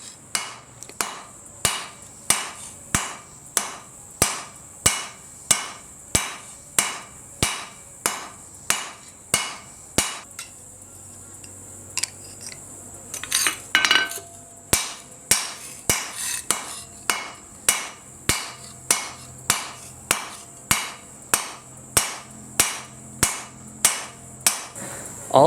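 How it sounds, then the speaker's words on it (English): A cross peen hammer strikes an aluminum knife handle in a steady run of sharp, ringing metallic blows, about one per second, with a short pause midway before the rhythmic pounding resumes up close. "The handle is then ready to hammer out with the cross peen, giving it a nice texture and widening the material."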